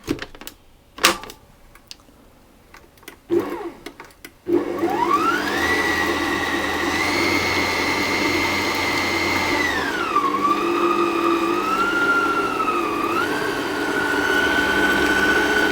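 An electric mixer whirs steadily through whoopie pie batter made with butter, flour, salt and buttermilk, its motor pitch rising and dipping as it runs alone and close after a few brief knocks.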